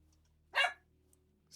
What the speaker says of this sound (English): you hear my dog barking in the background?